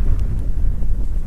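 Wind blowing hard across the microphone, a continuous low rumbling buffet with no other clear sounds.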